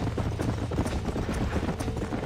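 Horse hooves clip-clop steadily in Red Dead Redemption, a close, regular rhythm of soft thuds over a dull ambient bed with no talking.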